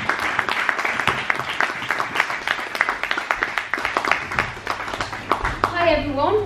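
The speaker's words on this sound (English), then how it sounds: "A big round of applause for Inés Dawson." Audience applause at a science cabaret evening, steady dense clapping from a crowd that fills the room, with some cheering and a voice rising near the end as it fades.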